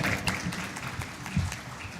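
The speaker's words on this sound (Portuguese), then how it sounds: "Senhoras e senhores, por gentileza, os nossos aplausos," Audience applause fills a hall at an agribusiness expo in Mato Grosso, a steady, moderately distant wash of clapping that carries on for about two seconds.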